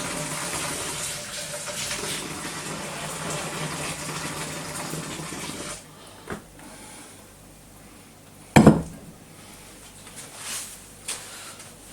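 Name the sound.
adding liquid rinsed from homebrew kit cans to brew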